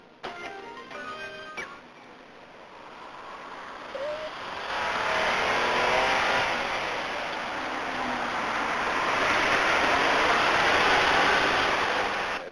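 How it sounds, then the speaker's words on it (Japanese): A 1990 Mitsubishi Diamante with two-wheel drive drives a mountain road, its engine and road noise rising into a steady, loud drone after a brief quieter start. "ディアマンテの二輪駆動をいつもの山坂道に持ってきました。"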